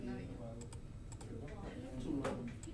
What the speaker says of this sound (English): Now try typing that again.